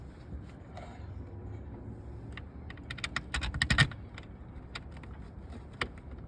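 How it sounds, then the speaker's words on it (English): Screws are driven into place while fitting a third brake light cargo camera on a 2019-or-later Dodge RAM, giving soft, scattered clicks and taps that bunch into a brief cluster of sharper knocks midway, with little else around. "I'm going to go ahead and get these screws into place"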